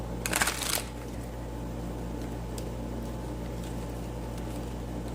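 A quick riffle of tarot cards being shuffled, lasting under a second, followed by a steady low hum in the room.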